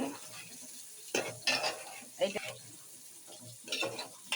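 Meat cooking in a pan in a home kitchen, with a steady low sizzle broken by several louder bursts of stirring and utensil scrapes, and soft background voices now and then.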